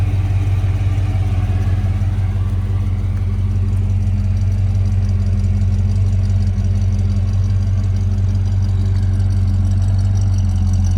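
A 1955 Chevrolet Bel Air Nomad wagon idles with a deep, steady, even rumble, loud and close, running without variation for the whole stretch with no talking.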